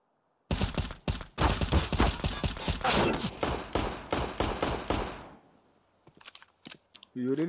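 Rapid bursts of gunfire from Counter-Strike in a professional IEM Katowice 2023 match, dense overlapping shots for about five seconds, then fading to sparse clicks and a short rising tone near the end.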